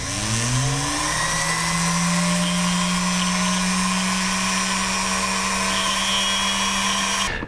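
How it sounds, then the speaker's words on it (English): A handheld rotary tool fitted with a 2 mm pin polisher runs against jewelry, its motor whining up to speed at the start and then holding a steady, loud, high-pitched spin for several seconds. "So I'm going to use the pin polisher to just brighten them up a little bit."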